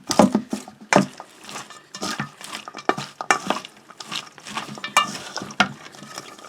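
Venison slider ingredients get mixed by hand in a bowl. The sound is a string of close, uneven scraping and clicking strokes in irregular bursts, with no talking.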